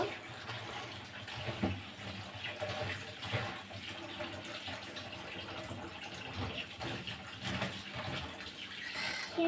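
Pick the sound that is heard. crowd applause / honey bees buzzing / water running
water running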